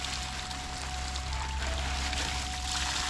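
Water poured steadily onto plants outdoors at a village home, a continuous close splashing stream with a faint underlying hum and no talk.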